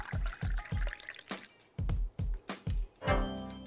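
Green tea poured into a cup in the Dave the Diver sushi game, heard as a run of short liquid pulses with steady rhythm, ending in a brighter, longer trickle, close and alone.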